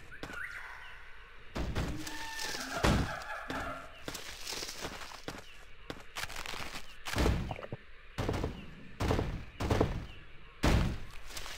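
Irregular thuds and scraping knocks as a heavy box is shoved around in the video game Trespasser on an InGen Compound custom map, a series of separate impacts spaced across the clip.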